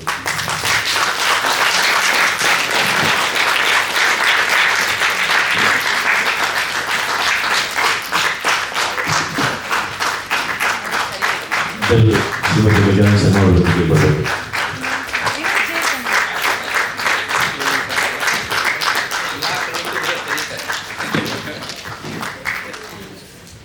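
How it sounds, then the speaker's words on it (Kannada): Sustained, loud audience applause fills an honouring ceremony at a Kannada literary event, steady clapping continuing throughout while a voice speaks over it and a brief low thumping burst stands out midway. "ಚಪ್ಪಾಳೆ ನಿಲ್ಲಬಾರದು."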